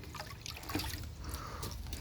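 Water trickles and splashes steadily as potted pomegranate plants are watered, a soft continuous pour close by with no talking.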